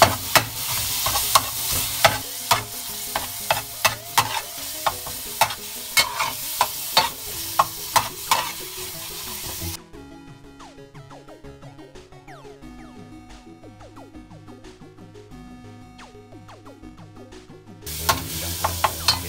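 Onion and garlic sauté in a pan with ground pork for ginisang sayote, with loud, rapid stirring scrapes over a crackling sizzle that drops to a quieter sizzle midway and then returns.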